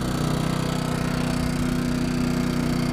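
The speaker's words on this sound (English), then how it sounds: "Generator's doing fine." A small portable generator drones steadily and continuously aboard a boat, a constant mechanical hum with no change in pitch or loudness.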